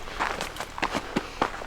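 Footsteps crunch along a spring trail near an old sawmill, with a little snow around, about five or six uneven steps close to the recorder, each a sharp scuff with soft breathing between.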